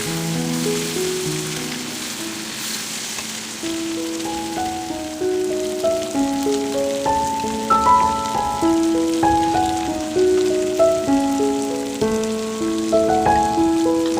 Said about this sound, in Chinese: 煸炒数次。